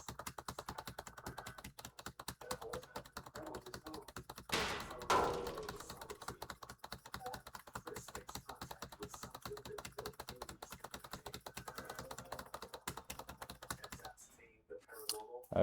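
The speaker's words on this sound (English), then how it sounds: "You can bet that I spam the hell out of Q and E when doing this type of thing." Rapid, constant clicking of computer keyboard keys, Q and E tapped over and over while playing People Playground, a dense stream of light clacks with a brief louder burst partway through and a pause near the end; speech is faintly audible.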